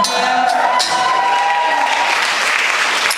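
A concert audience at a show in Barcelona claps steadily, a broad wash of applause with faint cheering and lingering musical tones underneath.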